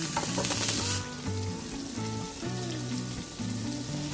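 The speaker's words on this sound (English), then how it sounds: "first, put the butter in the pan and wait until it melts" Butter melts and sizzles in a hot pan while sauce for Buffalo chicken wings is made, a steady frying hiss under continuous background music.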